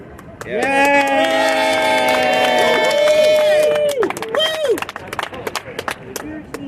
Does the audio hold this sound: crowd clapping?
yes